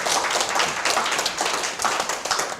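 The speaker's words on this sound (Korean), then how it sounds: "여러분 박수 한번 쳐주세요" Brief applause from a lecture audience at a public science talk, a moderate burst of many hands clapping with uneven surges, close and fairly lively.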